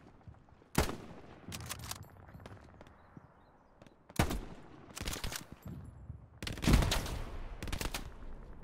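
Gunfire in the World War II shooter Hell Let Loose during a battle in Stalingrad: several loud, sharp bursts of rapid shots with quiet gaps between them, close and otherwise alone.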